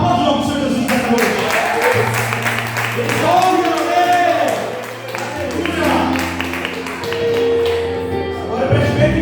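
Applause from a church congregation during an evening worship service, a steady crackling wash running under a preacher's voice and sustained low keyboard notes.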